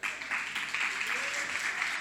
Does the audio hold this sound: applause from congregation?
yes